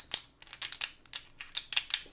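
Board game cards for Hoplomachus are riffled and bridged in short bursts, a series of crisp, papery shuffles close by with brief pauses between, no voices.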